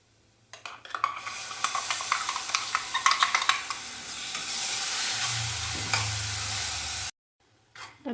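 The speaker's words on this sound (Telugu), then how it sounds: "టొమాటో ప్యూరీ పచ్చివాసన పోయే వరకు దీన్ని కూడా వేయించుకుందాము" Tomato puree frying in a pan for a dhaba-style paneer masala curry, a loud, dense sizzle with rapid stirring scrapes early on, then a steadier hiss that cuts off abruptly near the end.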